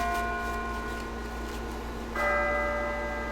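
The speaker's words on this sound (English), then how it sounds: "Hey, do you hear that? It sounds like a bell, but where's it coming from?" Sustained, ringing bell tones in the Persona 3 Portable video game, holding steady before a fresh, louder strike joins partway through, layered over a low background hum.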